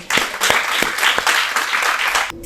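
An audience at a Punjabi folk music gathering bursts into loud, sustained applause to welcome the guest of honour, dense clapping throughout that cuts off abruptly near the end.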